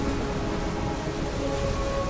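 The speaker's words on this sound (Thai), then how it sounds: "เอ๊ฝนตก" Rain pours in the video game Ori and the Will of the Wisps, a dense, even rushing hiss that holds steady at moderate volume with no voices over it.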